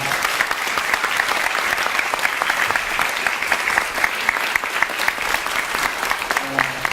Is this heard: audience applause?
yes